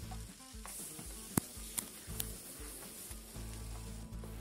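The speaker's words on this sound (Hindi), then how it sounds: "लहसुन हल्का सा भुन जाए प्याज डालेंगे।" Chopped onions and garlic frying in a pan give a faint, steady sizzle with a few soft clinks and stirring scrapes over a low background rumble.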